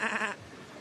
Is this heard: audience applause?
no